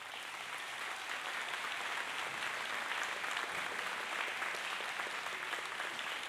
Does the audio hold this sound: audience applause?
yes